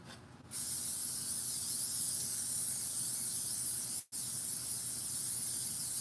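Kroger canola cooking spray hisses from the can in one long, loud, steady burst, cut by a brief break just past the four-second mark before the spray resumes.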